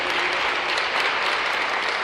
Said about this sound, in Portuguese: Queria que você desse uma salva de palmas por irmão,